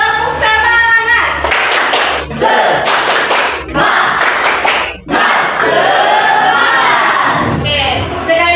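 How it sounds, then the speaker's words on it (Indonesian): Another round of the tepuk semangat spirit clap: a group beats out sharp rhythmic hand-clap patterns together while loudly chanting in unison. The sound is close and vigorous, with a few short breaks between phrases. "Kalau ibu bilang tepuk semangat, berarti kita harus tepuk semangat."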